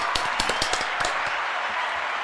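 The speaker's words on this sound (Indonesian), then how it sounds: "Ya, oke, tepuk tangan." Audience applause at an Indonesian panel discussion on subsidized fertilizer, a short burst of scattered claps that thins out and fades within about two seconds.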